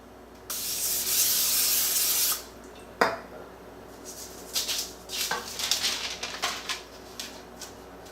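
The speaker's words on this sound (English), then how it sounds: "give this a spritz with a non-stick cooking spray" A can of cooking spray hisses in one long steady burst lasting nearly two seconds, followed by a clunk and light clattering of kitchen items.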